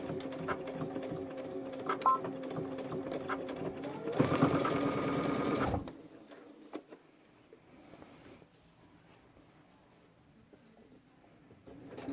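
A sewing machine stitches a backpack lining in a steady, close, continuous whir for about six seconds, then stops, leaving a quieter room with faint handling sounds.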